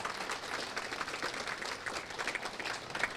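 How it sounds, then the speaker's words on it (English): An audience at an evening panel discussion on the Green New Deal applauds the panelists with a soft, continuous patter of many hands clapping, fairly quiet and even, with no voices over it. "Can we get a round of applause for our panelists tonight?"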